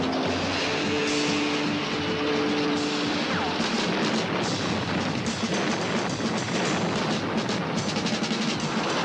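Artillery fire in a 1981 war comedy, a continuous loud rumble of guns and blasts filling a noisy battlefield din, with no talking heard over it.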